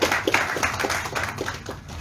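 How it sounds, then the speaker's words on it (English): Small audience at a telemedicine and flood response event clapping, with distinct individual claps standing out over a soft, uneven patter that tapers slightly toward the end. "I think we can clap in his absence too."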